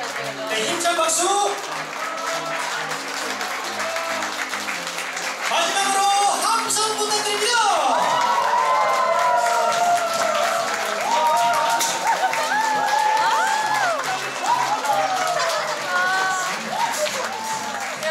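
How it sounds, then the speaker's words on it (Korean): Wedding guests at a Korean ceremony clap and cheer as the bride and groom march out together, sustained applause under an announcer's voice and lively music. "힘찬 박수!"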